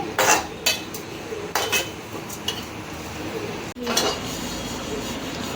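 Coriander seeds dry-roasting in a pan over a low gas flame while being stirred: intermittent sharp scrapes and clinks of a spoon against metal over a soft, steady background hiss.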